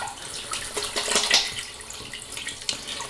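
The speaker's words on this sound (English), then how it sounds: "I rinse my hands after applying it" Running tap water splashes steadily over hands being rinsed at a sink after applying shaving balm, close and continuous with small bursts of splashing.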